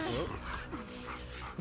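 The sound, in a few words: dog barking in The Last of Us Part 2 video game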